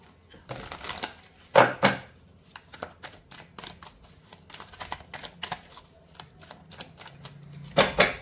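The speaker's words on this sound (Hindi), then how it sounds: "मैं आपके लिए प्रार्थना करके शफल करूंगी कार्ड्स" Tarot cards shuffled by hand, a series of crisp riffling bursts and soft flicks in irregular rhythm, close and fairly quiet, with a louder riffle early on and another at the end.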